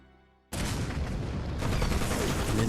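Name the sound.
gunfire and grenade explosions in an ambush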